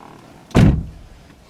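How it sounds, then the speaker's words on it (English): A single solid thunk of a vehicle door being shut, one short close impact followed by quiet. "It says, you gotta shut your door."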